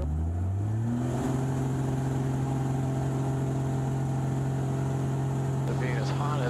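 Single-engine Extra 300 aerobatic airplane accelerating on its takeoff roll on a hot day, engine rising quickly in pitch and then holding a loud, steady drone close by.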